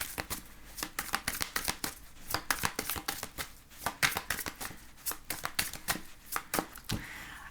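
Tarot cards being shuffled by hand, a rapid series of crisp riffling and slapping bursts in an uneven rhythm, close and fairly loud, with no talking.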